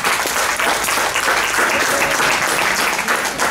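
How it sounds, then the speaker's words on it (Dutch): Applause from a club audience for a photographer at an exhibition-style event, a steady, dense clatter of many hands that fills the space evenly and holds at full strength for the whole stretch, with no voices breaking through. "En nog een hartelijk applaus voor deze"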